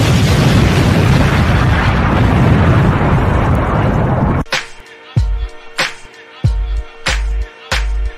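A loud, dense roaring explosion fills the first half, then gives way to a series of sharp, separate booming impacts with deep low thuds, like debris or secondary blasts, spaced about a second apart.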